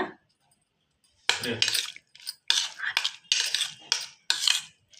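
A spoon works through curd poha in a bowl, with a run of separate close scraping and clinking strokes following a short voice at the start.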